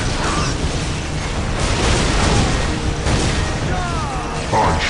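Grenade explosions in the Warhammer 40K Dawn of War video game, several booming bursts amid battle noise, loud and close, with voices speaking over them.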